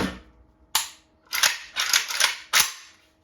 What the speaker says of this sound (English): Let's make sure we take the magazines out, clear the weapon before we start.